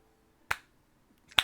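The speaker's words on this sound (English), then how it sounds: "it's just a very slow clap." Two sharp, isolated hand claps spaced almost a second apart, close and crisp against near silence, forming a deliberately slow clap.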